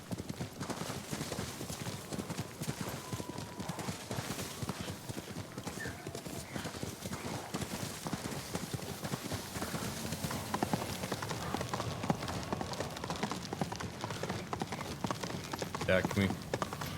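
Horse hooves clip-clop steadily through a Ghost of Tsushima ride, a continuous rhythmic trotting with an occasional whinny, running under someone talking throughout.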